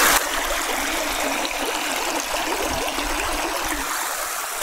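Fast-moving, cold spring-water stream running through a lava cave, a loud, steady rushing and gurgling close by, continuous with no talking.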